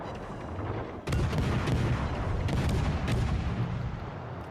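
Heavy warship guns roar out in World of Warships: Legends as an American St. Louis cruiser fires several booming salvos in quick succession, loud and dense with overlapping blasts and rumbling, no voices over them.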